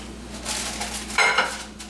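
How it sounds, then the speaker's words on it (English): A microwave being opened and a dish set inside: a short clatter of a door and a dish knocking and clinking against the interior, close by and moderately loud, with no talking. "So, you know, you open your microwave"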